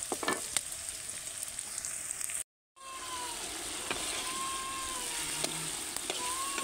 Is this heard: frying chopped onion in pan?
yes